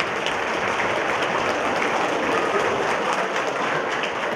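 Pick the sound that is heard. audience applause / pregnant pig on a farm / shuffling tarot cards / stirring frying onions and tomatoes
audience applause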